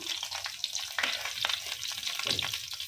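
Stuffed capsicum frying in oil in a pan, a continuous close crackling sizzle with soft pops and spatters throughout and no voices.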